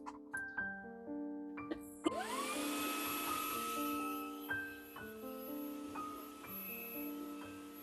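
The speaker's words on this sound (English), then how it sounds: "I'm going to hoover it up and see what is left." A handheld hoover starts up with a sharp click and rising whine, then runs steadily and loud while vacuuming over a model railway layout, its pitch dipping and shifting as it sucks up loose bits.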